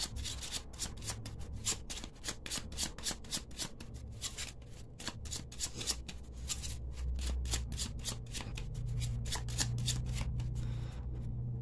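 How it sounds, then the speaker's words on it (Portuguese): A Cigano tarot deck is shuffled and cut by hand on a reading table, producing a steady run of crisp, rapid card riffles and rubs, close and fairly quiet, with no voices. "Então, embaralhei aqui, cortei."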